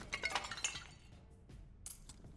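Pots smashed in the video game Dark and Darker, giving a loud burst of shattering, clinking shards, then fainter debris and a second smaller crack.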